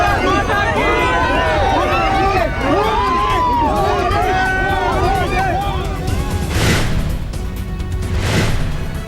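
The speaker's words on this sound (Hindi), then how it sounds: "ओटावा में होटल के बाहर नरेंद्र मोदी से मिलने वालों की उमड़ी भीड़, लगे मोदी मोदी के नारे" A dense crowd gathered outside a hotel in Ottawa to see Narendra Modi, chanting his name; a steady loud roar of many voices with rhythmic shouting swells, close and continuous, with bursts of cheering near the end.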